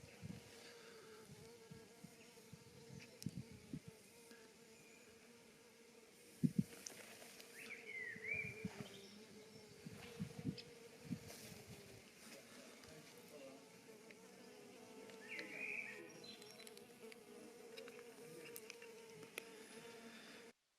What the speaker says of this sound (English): if you listen closely, you hear the buzzing of the insects